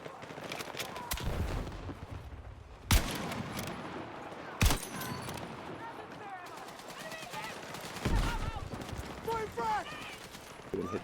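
Gunfire in a first-person shooter video game: sharp individual shots with a few louder close cracks around 3 and 4.7 seconds, scattered fusillade and distant bursts throughout, with speech heard along with it.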